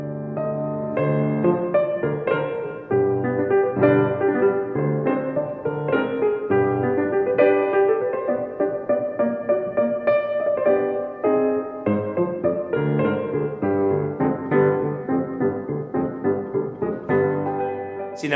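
The sung ending of the first romanza from the zarzuela Las Calatravas, performed as written in the score, with a voice carrying a flowing melodic line over steady instrumental accompaniment throughout.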